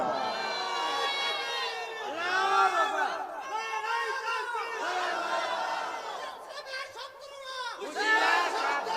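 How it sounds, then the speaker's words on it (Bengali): A large crowd at an Islamic waz mahfil in Bangladesh roars a takbir with raised hands, loud massed voices shouting in repeated surging waves, dense and continuous, with rising and falling chants filling the space. "দুইটা হাত তুলে তাকবীর দিয়ে দেখিয়ে দাও।"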